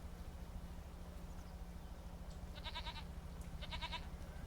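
Two goats in Farming Simulator 25 give two clear, nasal bleats, each a short wavering burst, spaced about a second apart over a low steady background hum.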